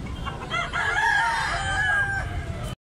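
A White Kelso rooster gives one loud, close, drawn-out crow lasting about two seconds before cutting off abruptly.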